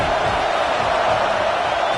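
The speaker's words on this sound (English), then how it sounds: "This crowd bringing the energy and noise early." A dense, steady roar of a large stadium crowd in the college football video game NCAA 26, Arkansas vs FSU, loud and continuous, with indistinct shouts blending into the wash of noise.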